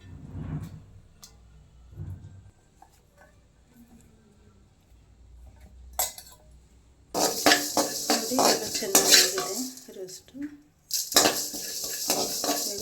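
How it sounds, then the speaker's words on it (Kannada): Cinnamon, cloves, coriander seeds, poppy seeds and peanuts are dry roasted in a pan without oil, heard as rattling, clattering stirring and metallic scraping that starts sparse and grows busy and louder partway through. "ಎಲ್ಲ ಹಾಕಿ ಡ್ರೈ ರೋಸ್ಟು ಮಾಡಿ ಹುರಿತಾ ಇದ್ದೀನಿ"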